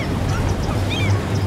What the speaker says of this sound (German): Man hört ja auch eine Möwe.